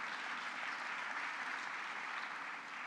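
Applause from guests at a housing awards gala, a steady, fairly distant wash of many hands clapping at an even level for the whole stretch.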